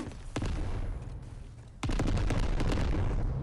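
Combat mortar weapon firing in the robot combat game Bot Machines, with sharp booming blasts around half a second and nearly two seconds in, followed by a loud sustained barrage of overlapping impacts.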